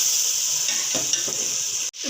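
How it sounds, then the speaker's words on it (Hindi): Tomatoes, onion and masala sautéing in a pan, a loud steady hiss of frying with faint scraping stirs, cutting off abruptly near the end; no talking. "इसमें अब उन्हें भूनेंगे जब तक टमाटर गल नहीं जाते।"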